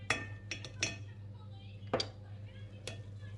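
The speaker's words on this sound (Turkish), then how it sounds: "Şimdi tel bir süzgeçten geçireceğim." Whisked egg mixture is pressed through a wire sieve with a spoon, producing several sharp metallic clinks and taps spaced irregularly over a low steady hum.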